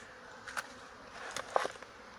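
Honey bees buzz at a small beehive tucked in a corner on a sunny day, a soft steady drone with a few individual bees zipping close past.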